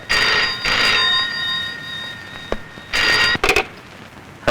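A telephone rings loud and close in a tense film scene, with two long ringing bursts, a pause, then a third burst cut short as the call is picked up.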